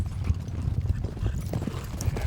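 Horses driven in by wranglers in the morning on a Wild West ranch in France make a steady clip-clop of many hooves on the ground, moderately close, with a low rumble underneath.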